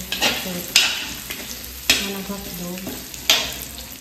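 Food fries in cooking oil under a constant sizzle, while a utensil stirs and scrapes the pan in sharp, repeated clattering strokes close by.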